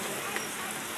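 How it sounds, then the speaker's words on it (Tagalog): Dense, steady hiss of heavy typhoon rain pouring down at an outdoor market, loud and unbroken throughout the brief moment. "Ayan o, lakas ng ulan."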